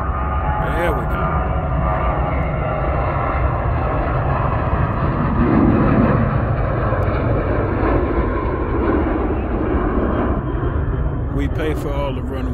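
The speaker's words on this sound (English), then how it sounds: "Looks like we got a United Airbus. So the 320 looks like a 320." A United Airbus A320 airliner at Houston's IAH airport gives a loud continuous engine roar that fills the whole stretch steadily, with people talking over it at times.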